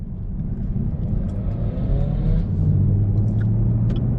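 Chevrolet Camaro ZL1 heard from inside on its first drive, a deep steady engine rumble that rises slightly as it accelerates, close and continuous with a faint whir over it.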